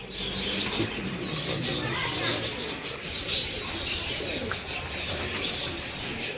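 Blue pigeons, bred from chini birds, coo in a fancier's loft in Kasur, a steady low cooing mixed with chirps and some wing flaps, with people talking over it throughout.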